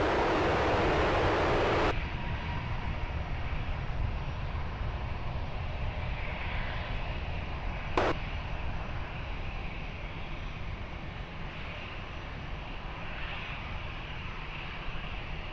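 An airliner taking off at Lisbon Airport, a steady broad engine roar heard from outside the aircraft, with a brief sharp click partway through.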